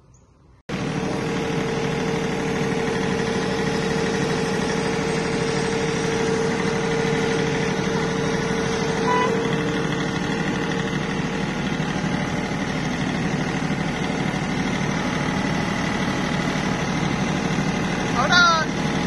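A tractor engine idles steadily on a hillside, a constant close rumble with a faint whine running throughout after a brief quiet start.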